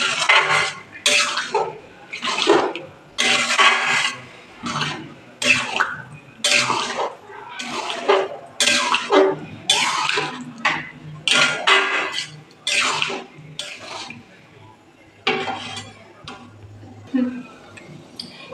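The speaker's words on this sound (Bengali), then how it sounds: "এবার ভালো করে ঘুগনিটা মশলার সাথে মিশিয়ে নেব" A metal spoon stirs ghugni with spices in a cooking pan, giving repeated loud scraping and clinking strokes in uneven bursts, close up, with short pauses between them.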